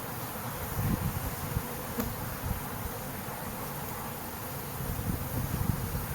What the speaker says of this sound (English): You can see these bees are still making their way into the entrance here.